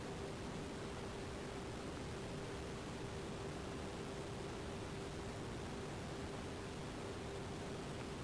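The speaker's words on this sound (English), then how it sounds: "Making sure the bottom fan motor is working fine." The bottom fan motor of a GE refrigerator (model GBSC0HCXARWW) runs steadily after repair, a constant broadband whoosh of blown cold air with a faint steady hum underneath, unchanging throughout.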